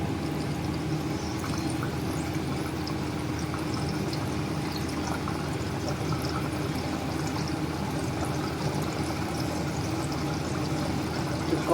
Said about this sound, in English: At this stage I'll add water.